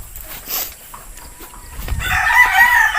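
A white-legged Boston game fowl rooster crows loudly and close by in the last second, following a few quieter shuffles and rustles on a small farm.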